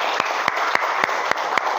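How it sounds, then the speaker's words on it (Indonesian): Classroom applause for a student: a dense wash of clapping from a small group, with periodic sharper claps standing out in a steady rhythm, close and fairly loud. "Oke, tepuk tangan untuk Cynthia ya."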